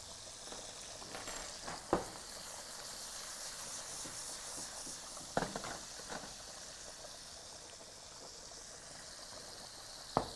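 Meat searing in a pan gives a faint, steady hiss with a few sharp pops spaced several seconds apart.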